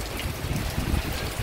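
Heavy rain pours during a November thunderstorm, a dense, continuous hiss with a low rumbling wash beneath, steady and without speech.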